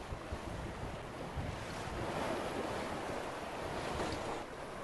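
Wind at 6 metres per second buffeting a microphone aboard a sailboat heading upwind toward Porto Santo, over the constant wash of waves, a broad rushing roar with occasional gusts and splashes.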